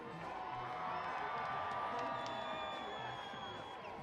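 Lively Friday-night crowd at a minor-league baseball stadium, a faint, distant wash of chatter and cheering with occasional whoops, steady throughout.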